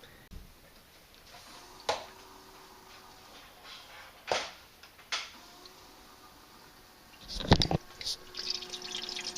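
A VECYS BYCZ581 countertop ice maker fills with water, giving a few separate splashes and drips over quiet machine hum, followed by a busier burst of trickling near the end.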